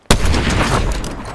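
Suppressed gunfire in the video game Fortnite: a sudden loud shot with a dense, sustained burst that trails off over a second, heard alone without talk.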